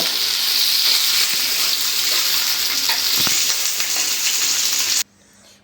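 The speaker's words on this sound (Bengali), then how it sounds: "ফোড়নটা আমার ভাজা হয়ে গেছে" Tomatoes and spices frying in a pan for chicken do pyaza, a steady loud sizzle with faint stirring scrapes that runs for about five seconds and then cuts off abruptly.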